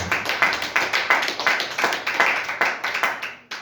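A church congregation claps in praise of the Lord, a brisk, even rhythm of sharp hand claps that sounds fairly close and carries on steadily before breaking off near the end.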